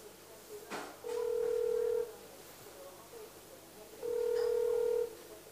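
A telephone rings back on an outgoing call, giving two steady one-second tones about three seconds apart, faint over a quiet room with a soft click before the first ring.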